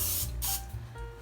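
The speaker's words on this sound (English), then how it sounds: "right now I'm spraying it with cooking spray" Two short bursts of cooking spray hiss close by into a muffin tin, each lasting about a quarter second, separated by a brief pause.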